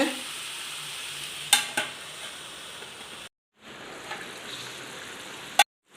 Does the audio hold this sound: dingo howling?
no